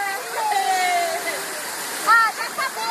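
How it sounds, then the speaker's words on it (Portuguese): A waterfall at the Império das Águas water park rushes in a steady broadband roar, with people talking and calling out over it. "a cachoeira."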